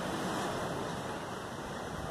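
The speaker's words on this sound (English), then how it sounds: "I'm filming the waves." Ocean surf rolls in under the pier at Okaloosa Island, Florida, between Destin and Fort Walton Beach, a dense, loud, steady wash of breaking waves with wind across the microphone.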